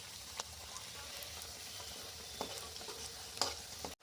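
Homemade kurkure fry in hot oil with a steady, moderate sizzle and occasional light clicks and pops, ending abruptly.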